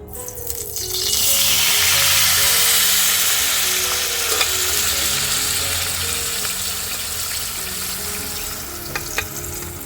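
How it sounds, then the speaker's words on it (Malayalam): Rendered pork fat sizzling and frying loudly in a pan with sliced onion, a dense continuous hiss that swells after a second and holds steady, with occasional stirring clicks. "നമ്മൾ ഓയിലിന് പകരം പോർക്ക് വേച്ചതിനകത്തുള്ള നെയ്യാണ് പാനിനകത്തോട്ട് ഒഴിച്ചു കൊടുക്കുന്നത്"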